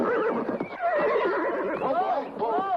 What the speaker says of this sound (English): Oh, crazy horse.